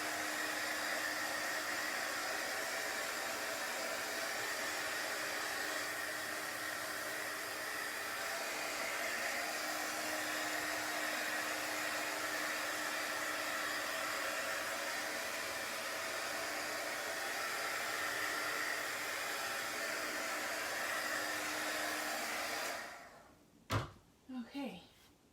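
A hair dryer blows steadily for over twenty seconds, drying chalk paste on a craft surface, then cuts off, followed by a few sharp knocks and handling clatter.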